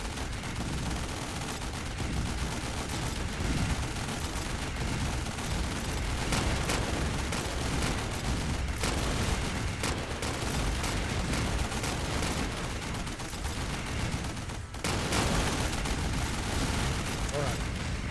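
Dense, continuous gunfire and explosions from a Battlegrounds war game with heavy tanks, a relentless barrage of overlapping shots and booms filling the whole stretch.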